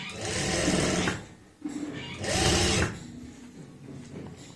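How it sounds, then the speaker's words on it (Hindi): Sewing machine stitching the armhole of a size 36 kameez with light hand guidance, two loud sustained whirring bursts of about a second each separated by a short pause, followed by quieter running. "ऐसे हल्के हाथों से आप यहाँ पे स्टिचिंग करते जाएंगे ऐसे"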